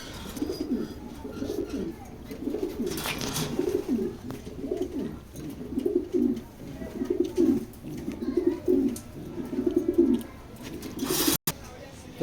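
Pigeons coo steadily in a pigeon loft, a run of low, rolling, repeated calls close by with faint background rustling.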